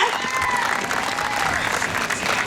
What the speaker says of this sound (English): If everybody can give a big round of applause to Shayla.